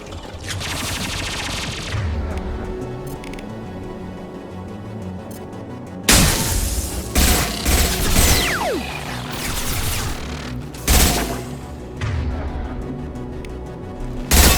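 Sustained gunfire during a Mass Effect 2 firefight on PS5: rapid automatic bursts and heavy blasts, with dense rattling volleys, sudden loud impacts and a brief voice amid the combat.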